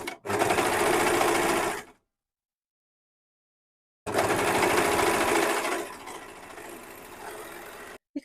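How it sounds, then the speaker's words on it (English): An overlocker sergers a raw fabric edge at the opening of a fake welt pocket being turned real, running in two loud steady bursts separated by about two seconds of silence, the second burst easing into a lighter hum before stopping. "And now let's go ahead and overlock that raw edge."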